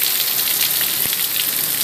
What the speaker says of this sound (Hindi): अब तो तेज़ बारिश हो रही है